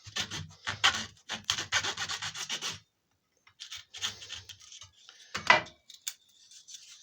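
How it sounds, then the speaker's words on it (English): Little burrs cut and scraped off freshly drilled wood on a handmade hummingbird toy, making close, dry rubbing and rasping strokes in quick bursts, then a pause and a few more scrapes. "And once you've drilled down just about a centimetre or so, you can cut off the little burrs."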